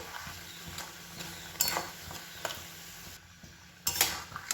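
Mango pulp and red jaggery (patali) being stirred in a pan for aamsatta: quiet spatula scrapes and clinks against the pan come in short bursts over a faint simmer.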